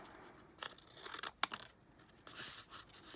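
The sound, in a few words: scissors cutting material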